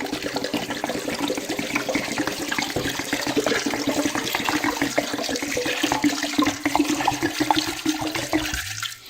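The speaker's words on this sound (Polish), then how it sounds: "zalewamy wszystko wodą." Water pours into a pot in a continuous rushing splash, then cuts off abruptly at the end.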